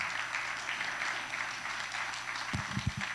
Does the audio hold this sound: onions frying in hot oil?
no